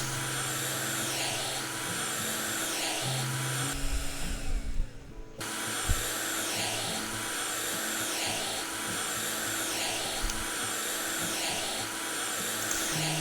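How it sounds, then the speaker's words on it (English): Window vacuum in the House Flipper video game, cleaning glass with a steady, close electric whir that dips briefly midway and then resumes evenly. "Oh, it's making vacuum noises."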